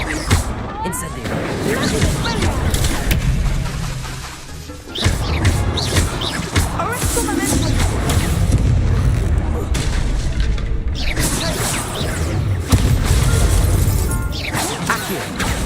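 Spell casting in the Hogwarts Legacy video game, including the Incendio fire spell, amid continuous loud booms, crashes and whooshing combat effects, with a voice speaking over them.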